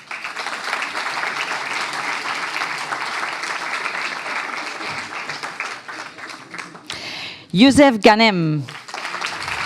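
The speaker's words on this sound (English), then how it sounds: "you can do a big applause for every one of them" Graduation audience at an engineering master's ceremony claps steadily for several seconds, the applause fading as a man reads a name aloud over the tail.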